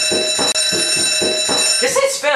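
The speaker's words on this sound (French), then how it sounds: "elle sonne comme une alarme" A loud alarm rings in steady rapid pulses close by, with voices speaking over it and a sharp buzzing tone at the end.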